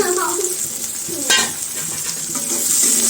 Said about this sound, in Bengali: পেঁয়াজটা ভালো মতো বেরেস্তার মতো করে ভাজবো তেলটা একটু বেশি দিবেন